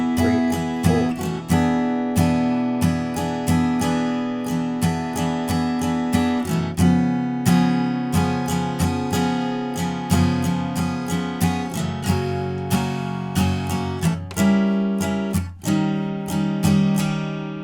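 Acoustic guitar strummed through the chord progression of a song, steady rhythmic strokes with a key change partway through, loud and close with no voice.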